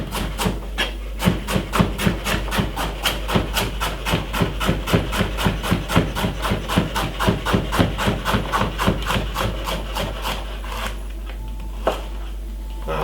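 A knife finely chopping a medium cucumber on a cutting board in a fast, even train of crisp taps, close and clear, easing off toward the end with no talking.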